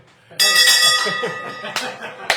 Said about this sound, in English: So I had to ring the bell.